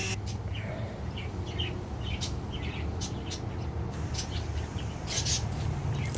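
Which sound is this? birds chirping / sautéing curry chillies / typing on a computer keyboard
birds chirping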